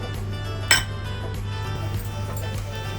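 A metal kadai pan set down on a stovetop for cooking with oil and cumin, one sharp clank near the start over a steady low hum, then quieter faint clinks.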